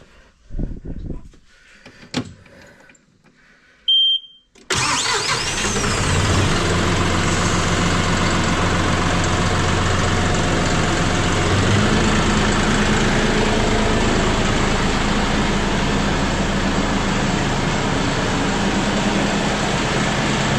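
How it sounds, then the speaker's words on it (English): A John Deere 5067E tractor diesel engine after a fuel filter change: a few short clicks and cranking bursts, then the engine catches and settles into a loud, steady idle that holds to the end. "And attempt to crank it and see what happens."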